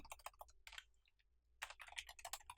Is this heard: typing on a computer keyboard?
yes